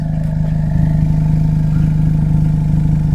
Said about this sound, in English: It is pretty loud, a little bit of drone, but it does kind of have that race car effect. Loud exhaust.